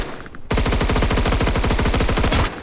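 Full-auto assault rifle fire in the Roblox shooter Phantom Forces: a loud, rapid, steady burst of shots lasting about two seconds after a short quiet lead-in, with no talking.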